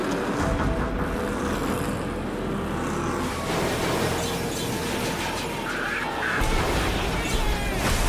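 A 3,400-pound stock car crashes into a guardrail, flips back onto the track and is slammed by an oncoming car: a loud, dense roar with bursts of impact noise.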